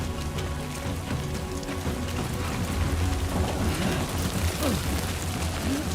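Steady heavy rain with rumbling thunder in the video game Death Stranding 2, a dense, loud, continuous downpour wash with a low rolling rumble underneath and no talking.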